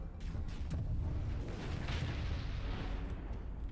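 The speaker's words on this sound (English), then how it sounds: "So we're just firing missiles into the ether now" Missiles launch in the space combat game Starsector, a dense rumble of heavy booms and blasts rolling continuously through a short burst of fire.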